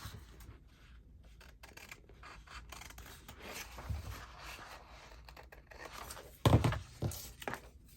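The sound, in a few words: trimming paper for a handmade notebook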